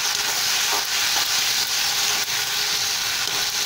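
A small whole tomato drops into lentil dal frying in a pan: steady, loud sizzling hiss runs throughout, with faint stirring clicks now and then and no talking.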